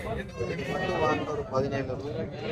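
A Jamunapari goat kid bleats repeatedly at a busy livestock market in Kunnathur, with nearby traders talking and crowd chatter over and around the calls.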